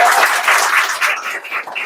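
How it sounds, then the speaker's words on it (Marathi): Audience applause at a literary talk, a short steady burst of many hands clapping close by. "ताईचं दुसऱ्या कॉन्स्टंटसाठी पण टाळ्या झाल्या पाहिजे."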